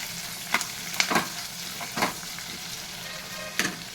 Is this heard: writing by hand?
no